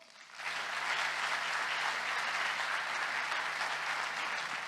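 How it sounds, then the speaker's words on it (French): A convention audience at an entrepreneurship event bursts into loud, sustained applause, with dense clapping that starts abruptly and holds steady for several seconds. "Ils vont applaudir très fort, vous allez voir."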